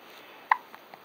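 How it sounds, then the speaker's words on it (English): A baby gives a single short, close hiccup followed by two fainter little catches of breath in an otherwise quiet room. "Haha, these hiccups funny."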